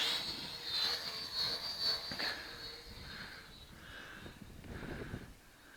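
A goolrc T6 waterproof quadcopter flies nearby with a faint, high whine from its motors that rises and falls as it spins and moves.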